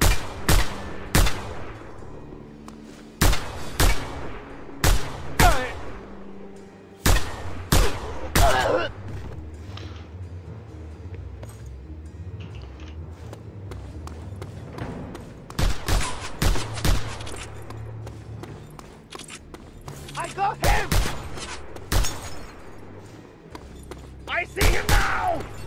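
Gunfire from the open-world action game Just Cause 2 rings out in repeated loud, sharp bursts and single cracks, scattered across a long stretch of combat with quieter gaps and speech in between.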